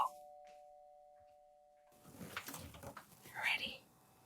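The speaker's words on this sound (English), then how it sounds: "I hear a doorbell." A doorbell chimes at the very start, a single clear tone fading away, followed by near silence and then soft whispery voices and movement.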